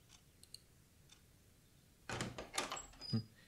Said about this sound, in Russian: Меня разбудил шум открывающейся двери.